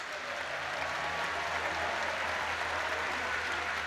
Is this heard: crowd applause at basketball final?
yes